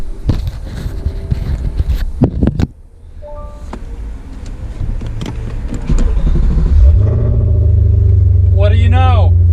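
An Audi RS4 B7 4.2 V8 cranks on a new starter motor after a faulty one was replaced, catching and settling into a loud, steady rumbling idle close by, following earlier clattering work sounds and brief speech.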